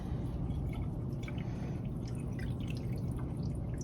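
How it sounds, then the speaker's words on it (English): Water poured off soaking seeds, a steady trickling and dripping stream running without pause, close and fairly quiet, with no talking. "we are going to go ahead and pour off the water"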